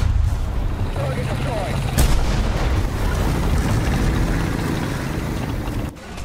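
Tank cannon fire in War Thunder: one sharp, heavy boom stands out amid ongoing engine rumble and game noise, with someone talking over it.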